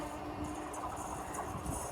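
A train passing in the rain behind the viewpoint near Uthralikavu temple in Wadakkanchery makes a continuous broad rumble and roar of rolling wagons. It holds steady and fairly loud through the short stretch, with no talk.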